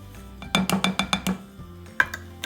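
A spoon or whisk clinks against a bowl while cornstarch and sugar are mixed for pastry cream, giving about six quick, close, evenly spaced taps, then a short pause and one sharper clink near the end.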